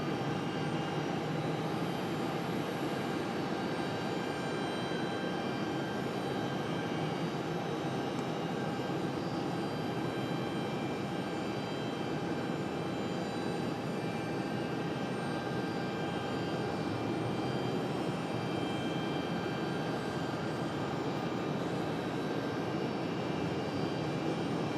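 Delta flight 1097 airliner arriving from Atlanta to land at Raleigh-Durham International, a continuous even jet engine roar with faint tonal whine, distant and steady throughout, without any voices.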